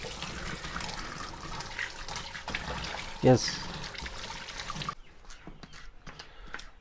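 Running water splashes as ingredients are washed clean on a free-range chicken farm, a steady trickling wash under occasional speech that stops abruptly near the end.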